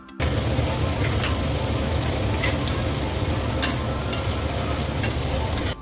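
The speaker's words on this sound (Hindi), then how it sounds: "मैंने उसी तेल में प्याज और टमाटर को भी डाल दिया था कि वो भी अच्छे से भुन जाएं" Onion and tomato fry in hot oil with a steady, dense sizzle, loud and close, broken by a few brief scrapes of stirring.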